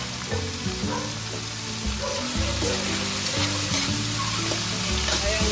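Tomatoes, onions and pork belly sautéing for ampalaya with pork: a loud, dense, continuous sizzle and crackle with stirring and scraping in the pan, close up, with no talking.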